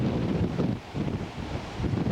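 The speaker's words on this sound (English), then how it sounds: "It's awfully, awfully windy today." Strong wind roars steadily across an Atlantic Ocean beach at Emerald Isle, North Carolina, buffeting the microphone in loud continuous gusts with a brief lull midway; high waves may mix into the rumble.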